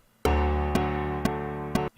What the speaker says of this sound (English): you can hear the click track in the background just for the sake of it